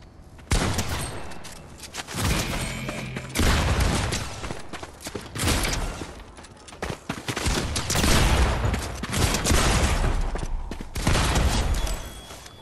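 Sustained gunfire from an attack on a boss in Fortnite: dense bursts of automatic shots with short pauses, loud and close, continuing for most of the stretch with no talk.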